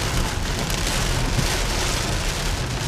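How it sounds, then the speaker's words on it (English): Steady rain pours onto a flooded parking lot, a dense continuous hiss of drops hitting wet pavement, loud and even throughout with no voices. "It's raining."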